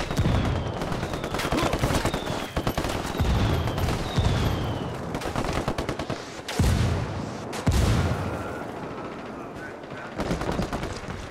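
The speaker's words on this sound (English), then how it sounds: "Called the rebels for mortar fire." Rebel mortar fire in the Ghost Recon Wildlands video game, with repeated loud booming impacts mixed into dense, rapid gunfire and a busy battle soundscape.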